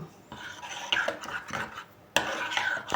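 Utensil scraping and stirring a mayonnaise and grated horseradish sauce in a bowl, uneven scrapes and soft clinks repeating close by with brief pauses between strokes.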